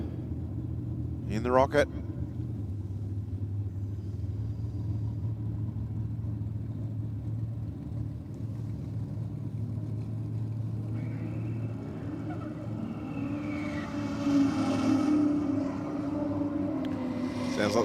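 A Chevrolet Camaro and a Ford EL Falcon, reportedly turbocharged, line up for a drag race at Sydney Dragway, with a steady low engine rumble throughout and rising revs near the end under a commentator's voice.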